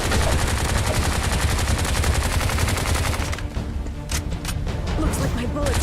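Video game gunfire: loud, rapid automatic bursts run continuously, then give way to scattered individual shots over a dense game soundscape.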